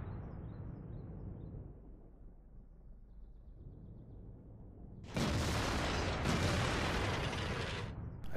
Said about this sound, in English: even firing high explosives, they're taking this thing down pretty quick